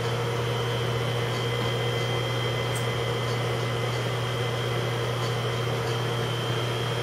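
A four-ball weld point test machine runs under ASTM D-2596 at 800 kilograms load, giving a steady mechanical hum with a constant low drone and faint whine, unchanging throughout and without talk.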